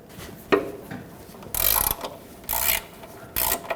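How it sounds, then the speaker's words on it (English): A 19mm wrench ratchets against the oil drain plug of a 2011-2016 Ford F-350 with the 6.2L V8, giving three short bursts of metallic clicking and scraping close by, with faint knocks between them. "Use a 19mm wrench or socket and break the drain plug free."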